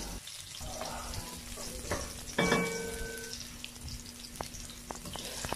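Ginger, garlic and onion sautéing in a pot for salmon-head sinigang, a soft low sizzle with occasional utensil scrapes and a brief metallic clang, fairly faint and close, no talk.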